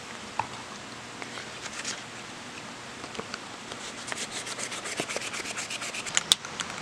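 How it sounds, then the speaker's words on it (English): Steady wet rubbing and scraping as primer is wet sanded by hand, a soft continuous rasp with small irregular squeaks and taps, close and alone. "I'm just wet sanding this, not trying to do a crazy good job on it"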